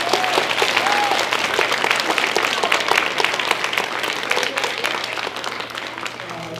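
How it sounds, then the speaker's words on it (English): A roomful of people gives a warm round of applause at an art museum exhibit event, with close, crisp individual claps over a full, sustained crowd ovation that tapers slightly toward the end. "Give him a round of applause."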